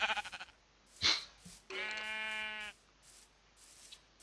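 Sheep bleating in a French-language video game, one clear drawn-out bleat standing alone after a few soft scattered sounds, close and moderately loud.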